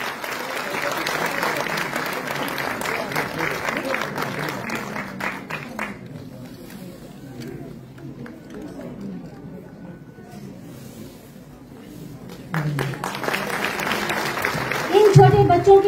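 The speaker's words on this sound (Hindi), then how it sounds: "इन छोटे बच्चों के लिए जोरदार तालियां तो बनती है" An audience at a cultural event gives loud applause for young Hindi students. The clapping is dense, fades into a quieter lull, and then surges again. An announcer's voice comes through near the end.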